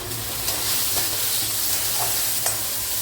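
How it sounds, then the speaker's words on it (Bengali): Onion and tomato frying in a pan, giving a continuous close sizzle and hiss with a few light stirring taps and no voices. "টমেটোটা দিয়েও আমি আগে প্রথমে একটু ভালো করে ভেজে নেব"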